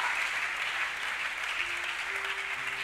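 A church congregation at an evening youth gathering claps and applauds in a dense, steady wash filling the room, with faint voices and a sustained low tone sounding beneath it.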